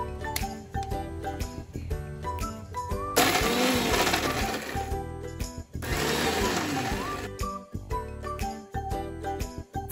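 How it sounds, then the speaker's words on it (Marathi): A mixer grinder whirs through red chili, garlic and salt for chutney in two loud bursts of a couple of seconds each, with steady background music playing throughout. "ही अशी लाल तिखट लसूण आणि मीठ टाकून चटणी करूया. मिक्सरला फिरवू."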